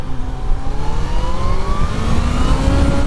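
Kawasaki Z H2 motorcycle pulling hard in second gear, its engine note climbing steadily and loud as revs rise, close and continuous for the whole stretch, the front wheel lifting.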